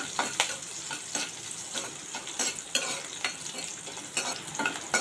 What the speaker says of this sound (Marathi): आता इथे मिरची आपण चांगली तेलामध्ये परतून घेऊया